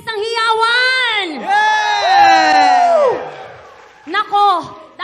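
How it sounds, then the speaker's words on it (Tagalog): A crowd of students at a school gathering shouting and cheering with loud, sustained voices that swell and fall, followed by a brief second burst of yells. "Isang hiyawan!"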